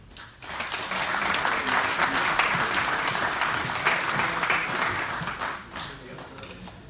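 Warm, sustained applause from an evening awards audience, steady and full for several seconds before tapering off near the end, with a few voices mixed in.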